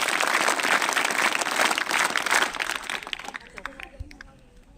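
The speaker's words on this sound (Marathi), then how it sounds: "विद्यार्थ्यांना सर्वांना विनंती आहे की आपण मुख्याध्यापक सरांचं टाळ्या वाजवून स्वागत करावं" Students clap to welcome the headmaster at a school bicycle distribution ceremony: dense, steady crowd applause for about three seconds that thins out and fades into scattered claps and room noise.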